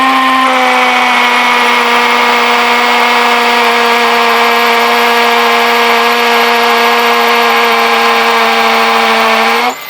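A powered auger drilling a post hole drones with a loud, steady engine hum holding one pitch for about ten seconds, then cuts off abruptly at the end.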